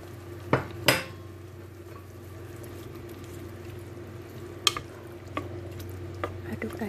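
Shrimp are stirred in a frying pan for a shrimp rice dish, with a soft steady sizzle and a few sharp utensil clanks against the pan at irregular moments.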